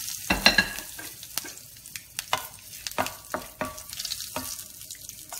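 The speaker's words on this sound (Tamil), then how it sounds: "இப்போ பட்டை, சோம்பு, மசாலாலாம் போட்டு பொரியும்" Cinnamon, fennel and whole spices frying in hot oil in a pan, a close crackling sizzle with repeated sharp pops and scrapes of stirring.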